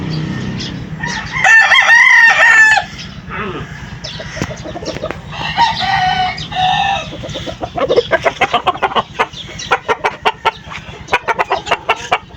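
Several roosters crowing close by, loud repeated crows over a rapid run of clucking from a flock of fowl.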